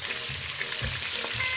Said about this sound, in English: I can hear the chicken boiling out for me.